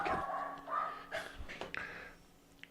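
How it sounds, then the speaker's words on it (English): Dogs barking and yipping indoors at a house, a few short excited barks with whimpers and breathing, fairly close and fading toward the end. "So the dogs are going crazy"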